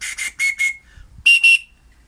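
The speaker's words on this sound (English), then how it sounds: "Slightly deeper whistle on that one, so I must have gone a bit deeper with the drill." A handmade wooden whistle drilled a little deeper gives a lower tone, blown in two groups of short, breathy, piercing toots, four then two, with brief silence between.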